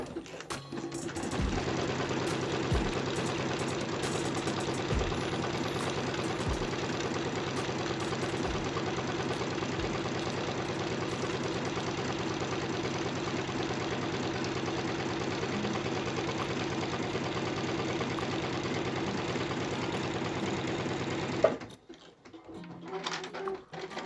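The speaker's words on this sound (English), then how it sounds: "we just sew along, gently pushing the material up against the sewing guide" Sewing machine stitching a straight seam with the fabric held against a sewing guide, a steady close whirring drone running for over twenty seconds with faint thumps, then stopping abruptly.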